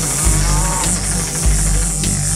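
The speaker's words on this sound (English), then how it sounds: "That cow's a mooing louder than a tractor in a hornet's nest." A farm cow in a nursery-rhyme song gives loud, drawn-out moos, two long calls in a row, set against a steady musical backing with no talk.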